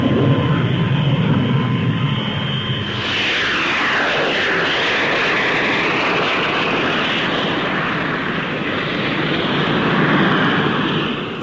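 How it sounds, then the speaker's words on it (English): A Folland Gnat lightweight supersonic fighter jet roars past at an air show, its loud engine whine sweeping through a pronounced pitch shift as it passes, sustained and powerful throughout. "Now Squadron Leader Tennant prepares to take up the Folland Nat-1"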